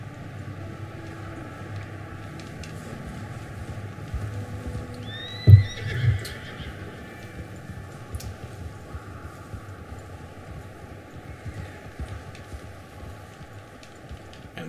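A horse in Red Dead Redemption 2 plows through deep snow, its soft hoof thuds running steadily under a low background rumble, with a sharper burst of a neigh and hoofbeats near the middle.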